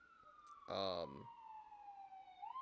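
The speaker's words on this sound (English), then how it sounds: "And here comes the siren." A siren passes outside with a steady, slightly falling wail that runs through the whole stretch, and a voice briefly talks over it in the middle.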